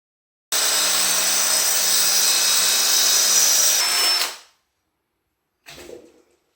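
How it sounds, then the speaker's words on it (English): A power drill bores a hole through a homemade Bosch lock ring tool, one loud sustained whine for about four seconds that winds down, followed by a short burst of scraping handling. "so drill a hole through there"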